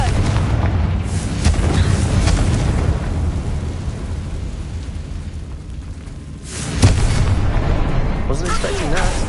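Confringo spell explosions in the video game Hogwarts Legacy, loud deep rumbling blasts with a sustained roar and a fresh burst near the end, with game voices mixed in.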